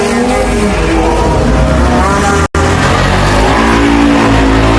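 A Honda Click 160i scooter engine revs loudly and continuously during steering-stem and fork alignment work, with a brief cut near the middle before the drone resumes.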